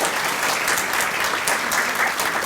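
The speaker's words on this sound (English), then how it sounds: "So let's give her a round of applause." An audience applauds an award winner at an Optimist Club gathering, a dense, steady wash of many hands clapping, loud and sustained throughout with no break.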